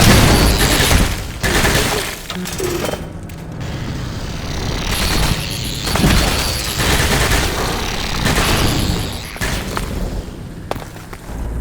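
Gunfire and explosions in the game Half-Life 2: Episode One, dense and continuous, with bursts of shots and heavy booms layered over a loud, sustained rumble.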